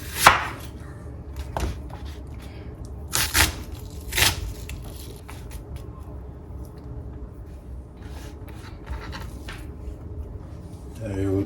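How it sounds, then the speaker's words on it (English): Onions are chopped with a knife on a board, with a few sharp cuts at first, then quieter, scattered taps and a quick burst of chopping at the end, all close up. "Then we will chop our onions."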